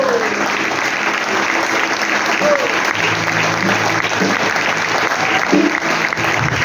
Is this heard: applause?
yes